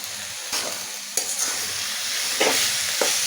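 Bhaitta greens (shak bhaji) with crushed fried chillies stir-fried dry in a pan, a soft steady sizzle broken by a few scraping stirs of the spatula, close and alone with no talk.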